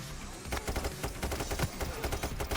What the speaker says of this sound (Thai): สไนเปอร์ยิงกู